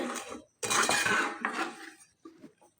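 Batter is stirred in a bowl for a savoury Bengali chakli tiffin snack, a utensil scraping and clinking against the dish in a loud burst and then short softer strokes, with no talk.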